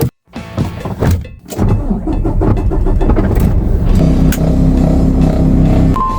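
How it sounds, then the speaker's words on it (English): A mechanic's service truck for construction equipment thumps once, then its engine runs and revs at a steady, fairly loud level as the truck drives, with no talking. "The service truck on a Thursday. Let's go."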